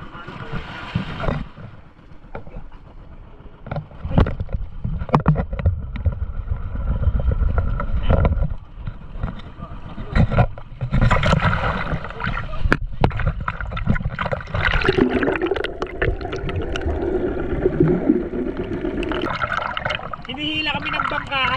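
A boat's motor runs while it tows snorkelers holding onto its rope in open water, with wind buffeting the microphone, water splashing and people talking over the noise.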